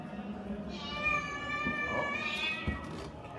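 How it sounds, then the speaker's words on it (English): A cat meows from a rooftop in a long, drawn-out wail rising and falling, moderately distant and faint, with people talking quietly nearby. "Just heard like a cat noise coming from somewhere."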